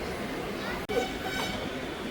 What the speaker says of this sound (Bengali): দক্ষিণেশ্বর স্টেশন থেকে আমাদের ট্রেন ছেড়ে দিল